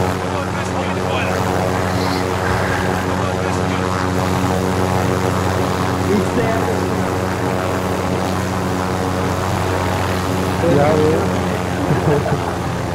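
Helicopter engine and rotor in Call of Duty Warzone, a steady loud drone with a throbbing low hum running throughout, with players chatting over it.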